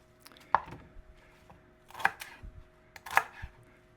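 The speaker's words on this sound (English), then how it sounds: "For the celery, I'm going to cut off the ends." A knife chops the ends off celery on a cutting board: three sharp, separate thunks spaced about a second apart, close and clear in a quiet kitchen.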